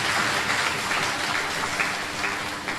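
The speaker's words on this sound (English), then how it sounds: "Give him a round of applause." An audience at a Christmas awards dinner claps for an MP, a brief burst of steady, even applause filling the room with almost no speech.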